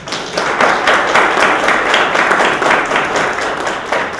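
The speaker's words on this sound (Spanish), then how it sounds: "Yo creo que se merecen un aplauso también." A seated audience at a cultural society lecture gives loud applause, a thick, lively burst of many hands clapping close by that holds steady throughout with slight swells.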